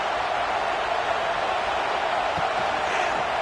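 A stadium crowd in College Football 26 during a CPU-vs-CPU FCS vs Texas game gives off a steady, dense roar that stays constant throughout with no distinct peaks.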